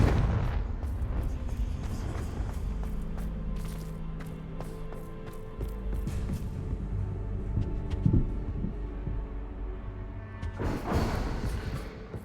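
Repeated blasts from the Confringo fire spell in the Hogwarts Legacy game on PS5, deep booming thuds and explosions layered over a continuous rumbling game soundtrack, with a louder burst near the end.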